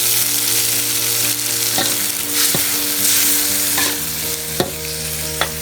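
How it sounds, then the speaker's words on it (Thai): Silkworm pupae are stir-fried with chili and garlic in a hot pan. A loud, continuous sizzle is broken by a few sharp spatula scrapes and clinks near the end. "พริกกระเทียมที่เราผัดสุกเหลืองดีแล้ว นำดักแด้ ใส่ลงไปผัดเลย"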